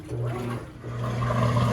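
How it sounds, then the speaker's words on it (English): Water sloshing and churning inside a GE laundry center washer during the wash cycle, a steady low rumbling swish with a constant motor hum underneath, close and continuous. "And we are in the wash cycle."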